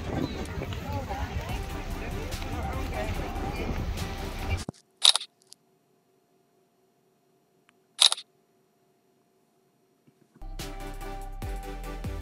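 Two sharp camera shutter clicks sound about three seconds apart during a selfie at a harbor fort near the Statue of Liberty in New York City, set in near silence between louder outdoor ambience at the start and end.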